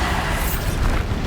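The Bombarda spell in the video game Hogwarts Legacy sets off a loud, dense explosion with a continuous roar and rumble that fills the whole brief moment.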